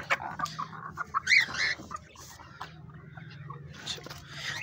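Chickens cluck and squawk close by in scattered bursts, several birds calling over each other against a low background hum.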